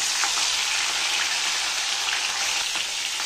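Aar fish frying in hot oil seasoned with a little salt, a steady loud sizzle with close crackling pops that continues throughout without any talking.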